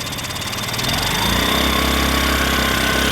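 TVS Scooty Pep+ scooter engine revving with a jerking and pickup problem, its drive belt section changing as the revs rise; a steady, loud engine drone that swells after the first second and holds, with no talk.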